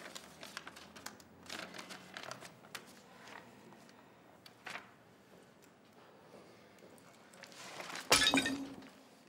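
Something dropped and smashed by shaky hands, a sudden loud crash of breaking glass near the end after quieter rustling and clinking in a room.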